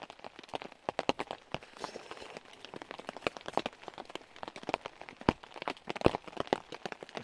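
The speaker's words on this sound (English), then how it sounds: "But yeah, still raining." Rain falling on a hammock camp in the woods, irregular sharp drips and taps striking the tarp close by, scattered and uneven over a quiet background.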